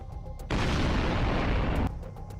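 A Russian tank's ammunition exploding after a Javelin missile strike in Ukraine, heard as a single loud, sustained roaring blast lasting over a second, rising abruptly and cutting off.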